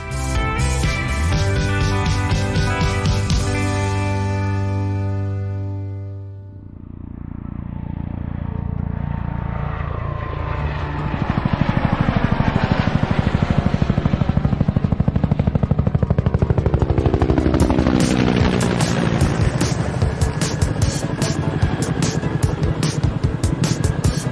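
A helicopter, the kind of Spanish NH90 flown in Mali, sounds in steady loud rotor and turbine noise for the whole stretch. A brief dip comes early, then the engine tone swells and broadens. No talk is heard.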